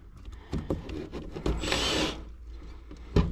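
A power drill bores through wooden siding over Tyvek house wrap on a shop wall, a brief grinding, rasping burst of about half a second between softer handling knocks and bumps.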